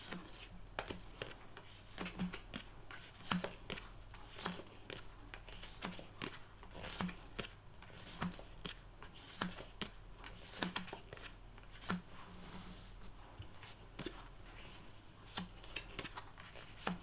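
A tarot deck is cut and shuffled by hand in a quiet room, with soft repeated card slaps and riffles at a steady pace, close but faint.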